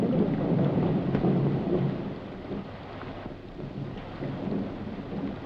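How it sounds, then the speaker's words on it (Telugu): Heavy rain pours steadily with a deep thunder rumble rolling underneath, loud and close throughout with no voices. "అరే వర్షం ఇంకా తగ్గలేదు"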